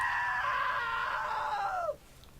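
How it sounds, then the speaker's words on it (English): A loud, sustained scream from a character in the video game What Remains of Edith Finch, holding a high pitch for nearly two seconds before sliding downward and cutting off abruptly. "Now that was a great scream."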